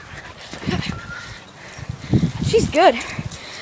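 During a playful chase, dogs give a few high whimpers and yips over panting and scuffling. A person speaks briefly nearby.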